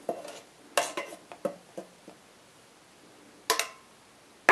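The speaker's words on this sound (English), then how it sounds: "I just give it a quick stir to make sure I've got all the grounds evenly" A spoon stirs coffee grounds into hot water inside a French press glass carafe, giving a series of short scraping clinks in quick bursts, then a pause and a couple more sharp taps near the end, close and fairly quiet.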